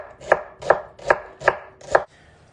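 A knife chops an onion into half rings for ratatouille, five even, crisp thuds on a cutting board at a steady rhythm, close and clear with no talking.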